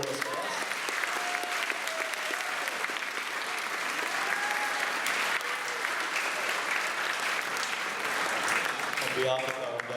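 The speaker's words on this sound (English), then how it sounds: "Give yourselves a massive round of applause" Students applaud at a school awards ceremony at Thuringowa State High School, a steady dense clapping from a large crowd lasting throughout, with faint voices beneath.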